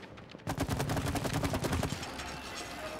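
Rapid gunfire from the video game It Takes Two bursts in after a brief quiet start, a dense fast rattle of shots that continues loudly to the end with no voices over it.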